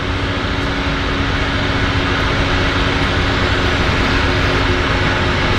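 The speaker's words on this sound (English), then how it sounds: "going into the heli base on the other side of the harbor" Helicopter flying across Vancouver harbour toward the Canada Place heli base, a steady, loud, continuous rotor and engine drone with a low hum, holding level throughout with no speech.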